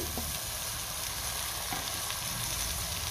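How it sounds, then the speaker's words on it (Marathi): Mutton frying with masala over a high flame makes a dense, continuous sizzle close to the pan, with a few light stirring knocks and no voices. "गॅसची फ्लेम मी हायवर ठेवलेली आहे आणि साधारण तीन ते चार मिनटं मी मटण चांगलं मसाल्यासोबत परतून घेणार आहे"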